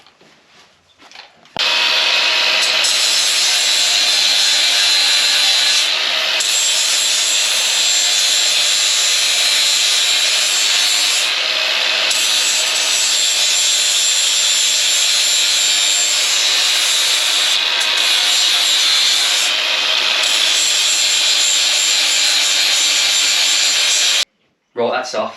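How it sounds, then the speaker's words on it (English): A power sander runs loud and continuously on parts of a Polaris RZR 900 XP side-by-side, a sustained high-pitched abrasive whir lasting over twenty seconds with only brief dips, close by. "We'll try and sand these back now, get it nice and smooth like this."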